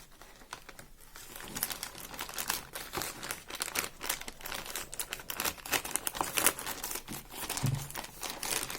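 A small AliExpress parcel is opened up close, with dense crinkling and crumpling of plastic packaging and occasional tearing. Bursts of rustling continue throughout with no talk.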